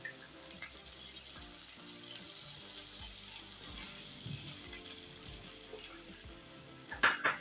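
Soft, steady sizzling of ivy gourd roasting in a pan on low flame, with occasional scraping stirs and a brief clatter near the end.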